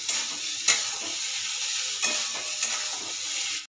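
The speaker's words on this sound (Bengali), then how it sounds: "যতক্ষণ না এর জল শুকোচ্ছে এটাকে নাড়াচাড়া করতে হবে।" Ridge gourd peel paste is stirred and scraped in a hot pan until its water cooks off, giving a steady sizzling hiss broken by a few louder scrapes of the spoon, with no talking.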